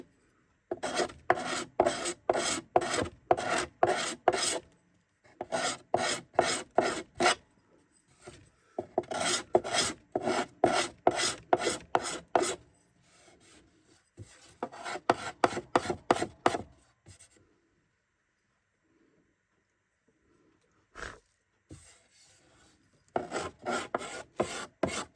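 A hand scraper smoothing the wood of a handmade seven-string lyre, with bursts of quick rhythmic rasping strokes separated by short pauses, close and clear with no talk.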